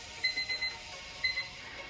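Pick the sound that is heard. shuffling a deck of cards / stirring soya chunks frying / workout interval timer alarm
workout interval timer alarm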